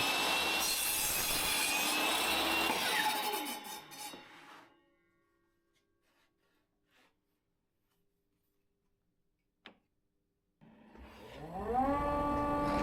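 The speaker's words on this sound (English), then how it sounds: "I set the saw blade to a 45-degree angle and cut the length of the pieces to 25 centimeters" A power saw with its blade tilted to 45 degrees cutting 25-centimeter lengths of scrap wood, several pieces at once in a jig: a loud whining cut that spins down to near silence, a brief knock, then the motor starting up again.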